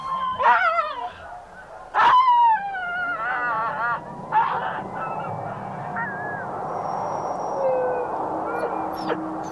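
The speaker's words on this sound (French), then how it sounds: "Les chiens sont surexcités." Overexcited sled dogs by a frozen fjord yelp and howl in rising, wavering cries that overlap, loud bursts standing out above a continuous chorus of barking.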